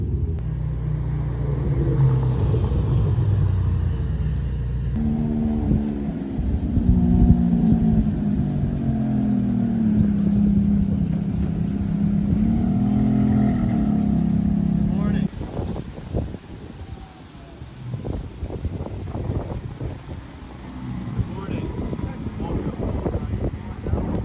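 Ferrari sports cars, including a 296, arriving at a small-town fall cruise, loud engine rumble and revving in the first half, then lighter traffic noise, with someone talking over it.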